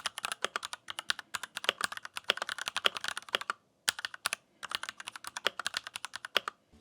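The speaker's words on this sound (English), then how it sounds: "Let's do the typing test." Typing on an RK61 Plus compact mechanical keyboard: fast, crisp key clicks in quick bursts close to the microphone, with a couple of brief pauses between runs.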